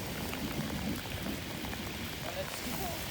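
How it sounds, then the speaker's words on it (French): Steady rain pours down during a wet bicycle trip along the Canal du Midi, a dense hiss of drops filling the whole clip with muffled voices underneath. "il pleut sa mère"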